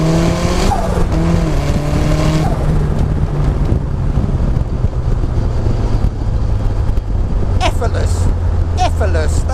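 An RX-5 250 with 375 bhp pulls hard, its engine note climbing loud and close inside the cabin amid strong wind rush, with brief squeals near the end while someone talks over it.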